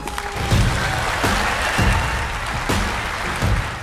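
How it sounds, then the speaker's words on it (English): Audience applause for a speaker at a talk on mRNA vaccines, a steady wash of clapping that holds throughout, with periodic low thumps underneath. "Huge applause to Dr. Robert Malone."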